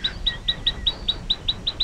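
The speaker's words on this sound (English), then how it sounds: "Taiwan Bush Robin" A Taiwan bush robin gives a rapid series of about ten thin, high chirps at an even rhythm, fairly close and alone against quiet background.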